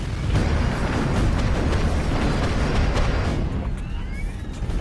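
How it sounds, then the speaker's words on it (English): A jet airliner engine compressor stall produces a heavy, sustained roaring rumble like an explosion that lasts several seconds and then eases, loud and unaccompanied by speech. "I believe it's a compressor stall."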